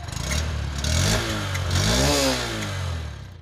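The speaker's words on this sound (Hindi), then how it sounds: "अब मैं आपको इसके एग्जॉस्ट के और इसके इंजन के साउंड को चेकआउट करा देता हूँ।" A 2022 Honda SP 125 BS6 motorcycle's engine and exhaust rumble close by, rising and falling through a couple of revs from idle.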